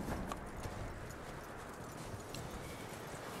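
Steady clip-clop of horse hooves at a walk in Red Dead Redemption 2, faint and even, with soft ambient noise around it and no talking.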